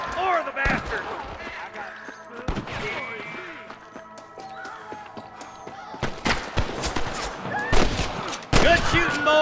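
Gunfire shootout in the Western video game Red Dead Redemption, with bursts of sharp shots and volleys cracking out in clusters over a steady game soundscape, loudest near the end, with shouting voices in between.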